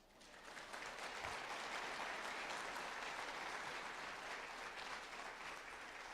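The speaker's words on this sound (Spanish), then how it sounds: "Un aplauso a sus padres." A comedy-show audience claps for someone's parents; the applause swells in within the first second, then holds as a dense, steady roar of hands that fades a little near the end.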